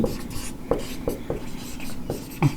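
A pen or marker writing an equation by hand, a series of short, close scratchy strokes and taps in an irregular rhythm, with light background hiss.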